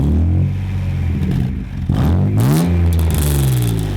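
A BMW E36 Compact with a swapped-in M52 engine accelerates up close, its engine note loud and steady, then dipping briefly and climbing again in a rising rev through the second half.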